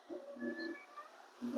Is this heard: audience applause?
no